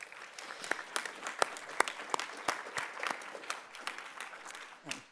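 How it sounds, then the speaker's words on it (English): A modest audience at a justice symposium luncheon gives a round of applause, a fairly faint patter of scattered individual claps with distinct sharp hits that thins out toward the end. "if we could give them one more round of applause"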